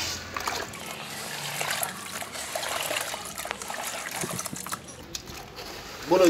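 Slaked lime is broken up by hand in water, with continuous close trickling and splashing and small wet dribbles, ending in a louder splash.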